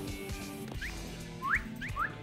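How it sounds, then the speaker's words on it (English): A person whistles a few short, quick notes that each slide upward, two close pairs of chirps over quiet video game background sound, fairly close and clear. "Yeah, I'm trying to whistle there."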